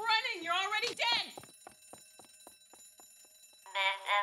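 A fire alarm in a dramatic sci-fi scene sounds as a run of evenly spaced short beeps or rings, starting after a burst of shouting and then giving way to a voice again near the end.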